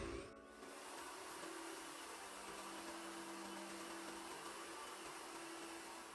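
Hair dryer drying hair during a keratin smoothing treatment, a steady whirring blow with a constant hum, quiet and continuous after a brief start, with no talk.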